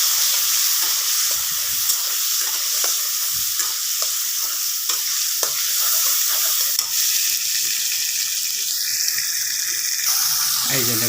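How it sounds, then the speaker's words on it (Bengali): Potatoes frying in oil hiss in a steady, loud close sizzle with occasional stirring clatter, continuous throughout, softening slightly toward the end. "এখন আলুগুলাকে আমি ভাজা ভাজা করবো।"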